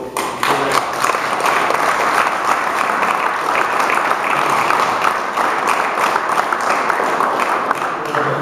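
Crowd applause at a Rally dei Laghi 2014 gathering, a loud, dense, continuous wash of many hands clapping that holds steady throughout.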